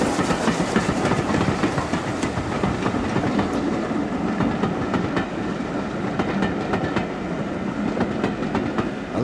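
The preserved Midland Railway Compound steam locomotive No. 1000 runs along the Birmingham to Bristol main line in 1966, a steady loud rumble with rapid rhythmic clickety-clack of wheels over rail joints throughout.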